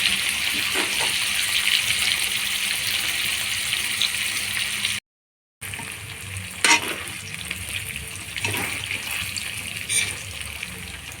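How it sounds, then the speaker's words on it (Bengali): Loud, continuous sizzling of paneer frying in hot oil, with occasional bursts of spattering and a brief silent gap midway. "এবার একইভাবে এই পনিরগুলোও ভেজে নেব"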